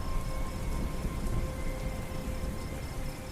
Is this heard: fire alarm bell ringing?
no